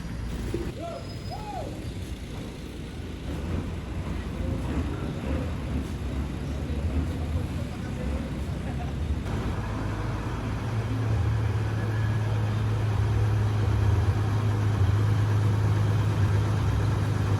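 A bus idles and rumbles as it pulls in to park at a roadside shelter, its low engine drone growing steadier and louder toward the end, with faint ambient noise around.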